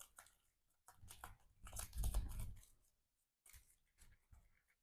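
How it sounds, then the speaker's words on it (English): Playing cards from a Marvel Champions encounter deck are shuffled by hand, quiet riffling bursts and rustles coming in uneven spurts with short pauses between. "Shuffle these 3 cards into the encounter deck."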